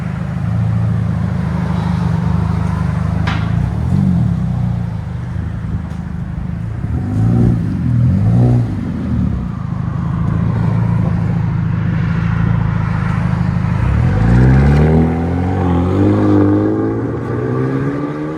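A 2014 Hyundai Genesis Coupe with a 2.0L turbo engine and straight-pipe exhaust, loud and close, idling with a deep drone, then blipped and revved several times, ending in a hard rising acceleration pull.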